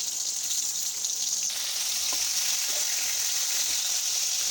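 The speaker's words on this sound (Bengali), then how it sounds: "এবার আমরা সবজিগুলো ভালোভাবে ভেজে নেব। প্রথমে বেগুনগুলো দিলাম" A continuous, close sizzle of eggplant pieces frying in oil, bright and hissing, with a faint scrape or two of a utensil.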